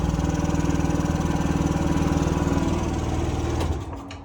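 A scooter's small engine runs steadily at close range just after its starter was replaced, a loud, even buzzing idle that carries on for several seconds, then drops off sharply near the end.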